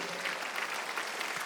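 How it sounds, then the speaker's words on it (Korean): A church congregation applauding during a Sunday worship service, a steady wash of clapping that fills the whole moment at moderate loudness, with no talk over it. "박수를 치며 하나님께 올리세요"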